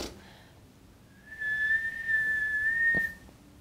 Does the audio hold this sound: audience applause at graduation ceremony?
no